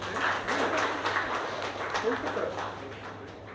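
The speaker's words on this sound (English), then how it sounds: "Can we have a huge round of applause for her?" Audience applause for a communication design prize winner, a steady wash of clapping from a crowd across the whole stretch, with faint talk mixed underneath.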